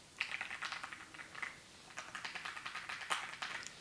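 Rapid, uneven clicking of keys being typed on a computer keyboard, close and fairly quiet, with short bursts and brief pauses and no talking.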